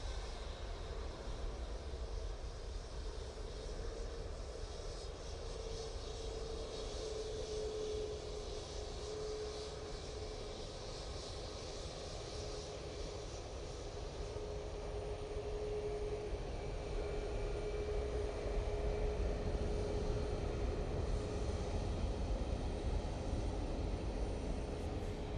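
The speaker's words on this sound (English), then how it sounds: "That tap has just touched down." A TAP Airbus A320neo jet touches down at Manchester Airport, its engine roar steady and moderately distant, a broad continuous rush with a faint tonal whine, swelling slightly toward the end.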